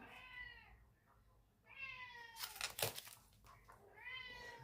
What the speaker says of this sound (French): Tu es là, derrière la porte, à miauler